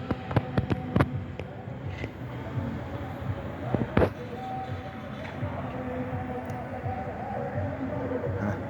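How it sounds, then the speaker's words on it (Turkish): Fireworks go off at night in a city neighbourhood, with several sharp bangs and cracks early on and one louder burst midway, followed by a steady background hum and murmur. "Adamın tam dibinde havai fişek attı"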